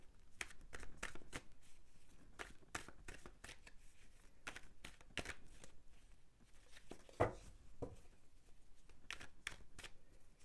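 Osho Zen tarot cards shuffled by hand in quiet surroundings, a steady run of crisp riffling flicks and soft slaps repeating throughout, close and fairly faint with no talking.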